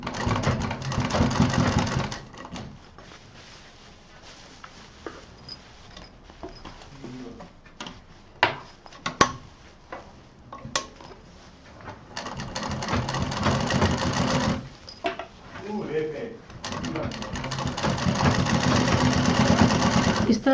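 A sewing machine stitches the lining of a baby doll bag in several steady whirring runs, separated by pauses with small handling clicks and taps, a voice speaking now and then.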